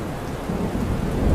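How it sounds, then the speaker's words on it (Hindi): Heavy rain pours steadily while thunder rumbles low and swells toward the end, a dense, close and loud storm wash with no voices. "उसके कानों में सिर्फ बारिश की बूंदों की आवाज गूंज रही थी"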